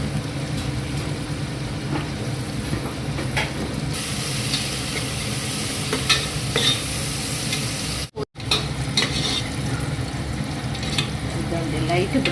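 Onions frying in oil in a pan, getting lightly browned with a little salt added, give a steady close sizzle with scraping stirs throughout, with a brief drop out near the middle.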